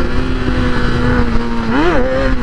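A 2009 Kawasaki ZX-6R sport motorcycle engine holding a loud, steady close drone, then briefly revving up and dropping back near the end.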